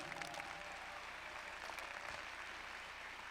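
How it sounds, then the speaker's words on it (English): A conference audience applauds in a steady, dense wash of clapping that holds at an even level throughout, with no voices rising above it. "Keep clapping like we're actually going to do it."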